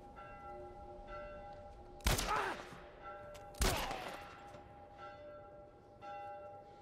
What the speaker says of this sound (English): All you're hearing is that salty bell?